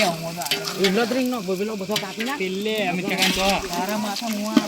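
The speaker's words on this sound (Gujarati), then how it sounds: "આ મસાલા બસાલા નાખીને રેડી. આ વઘાર ભરવા માંડ્યો છે હવે." Spices tempering in hot oil for a Holi party meal, a sizzle under loud, continuous talking close by, the frying hiss faint beneath the voices.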